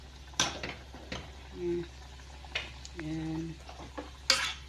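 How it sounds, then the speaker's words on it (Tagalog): Ground meat boiling in a pan is stirred, with a few short scraping strokes and clicks of the utensil over a low bubbling background, and brief tonal squeaks in between; a voice speaks briefly. "Kailangan haluin to guys kasi dumidikit guys"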